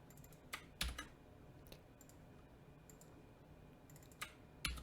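Typing on a computer keyboard comes through as quiet, close, irregular clusters of key clicks with short pauses between bursts.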